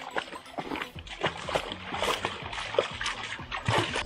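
A dog laps water on an outdoor bird hunting trip, with rapid wet splashy slurps close by in an irregular rhythm and a brief soft whimper.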